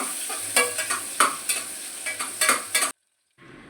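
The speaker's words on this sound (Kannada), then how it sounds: "ಕೆಂಪಾಗುವವರೆಗೆ ಹುರಿಬೇಕು." Chopped onions fry for pudina chicken biryani, a loud close sizzle broken by quick spatula scrapes every half second, then an abrupt stop into near silence before a faint hiss returns.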